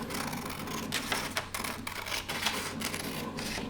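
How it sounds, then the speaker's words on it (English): Scissors cutting paper along a line: a run of crisp, closely spaced snips in short bursts, near and moderately loud, with small pauses between cuts. "I'm going to cut right on that line."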